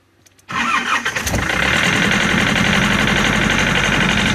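A car engine cranks briefly on a small portable jump starter, catches and fires immediately, then settles into a loud, steady idle close by.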